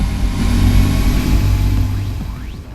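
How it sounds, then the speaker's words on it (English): A car engine in the Half-Life mod Shelf-Life holds a steady, loud, low rumble that rises slightly as it revs, then fades a little near the end. "Was that just that car I was hearing?"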